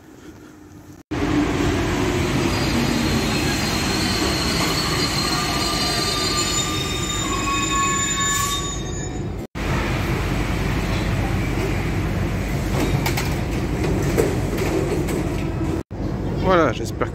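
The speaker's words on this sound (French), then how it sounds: "et on va prendre le métro" A Paris metro train runs near Chevaleret station in the 13th arrondissement. It makes a loud, continuous rail rumble with squealing wheel tones, with brief breaks near the start, middle and end, and faint voices may sit underneath.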